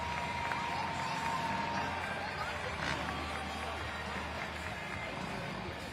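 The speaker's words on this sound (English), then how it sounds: "Round of applause for FMX riders." At a Monster Jam event in Tampa, Florida, an arena crowd applauds and cheers for FMX riders, a steady, dense roar of clapping and voices that holds at an even level throughout.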